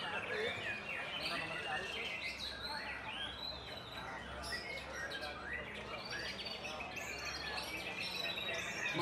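Cucak Hijau songbirds at a bird singing contest in Bogor, a dense chorus of overlapping chirps and whistles amid a steady crowd murmur and distant voices.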